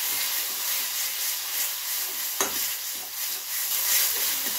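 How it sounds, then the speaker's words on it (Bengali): Turmeric, coriander and cumin powder fry in a pan for a dish of okra with small fish: a steady broad sizzle with light stirring scrapes throughout and one sharp clack near the middle, no voices. "মশলার সঙ্গে ভালোভাবে ভেজে নেব"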